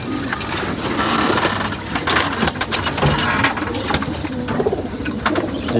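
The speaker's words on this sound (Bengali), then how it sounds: "এগুলো হলো মাদি কবুতর" Female pigeons coo over a steady, busy background hiss, with the soft calls blending into the noise rather than standing out clearly.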